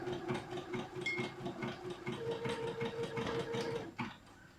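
A sewing machine runs steadily as it stitches a zigzag seam on a garment, its motor whirring with a fast regular rhythm, close and continuous before stopping abruptly near the end.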